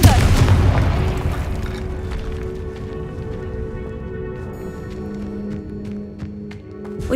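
Confringo spell explosion in Hogwarts Legacy, a loud booming blast at the start that decays into a long rumbling tail with faint lingering tones and scattered small crackles.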